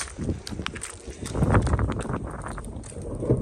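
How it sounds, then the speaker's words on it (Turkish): Strong wind buffeting the microphone, a continuous low rumbling roar that swells and surges throughout. "Acayip bir rüzgar var."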